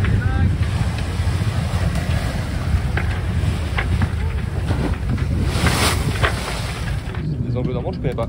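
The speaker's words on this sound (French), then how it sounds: "Attention les vagues!" Waves slap against a sailboat under sail off the Chausey islands, a rough, rushing wash of water and wind buffeting close to the boat, with voices speaking over the noise.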